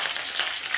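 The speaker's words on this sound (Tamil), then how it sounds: "சுண்டக்காய் அதையும் போட்டு எண்ணெயில் நல்லா வறுத்துடலாம்" Cumin, fenugreek, sundakkai and onion frying in oil, a steady close sizzle with faint crackle throughout the brief moment, no voices.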